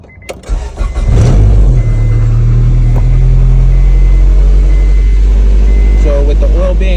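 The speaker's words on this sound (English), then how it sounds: "The bad news is this is a cold start." Honda B series car engine cold-starting after an oil pump replacement: a brief cranking stutter, then a loud, steady close-up idle with a raised cold-start hum and a few faint beeps near the end.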